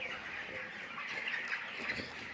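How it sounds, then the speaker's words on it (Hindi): A 27-day-old broiler chicken clucks on a poultry farm among the busy chatter of many birds, giving a steady, fairly faint flock noise with no single bird standing out. "तो ये 27 दिन का मुर्गा है, लेकिन लगता नहीं है कि यार 27 दिन का चूजा है।"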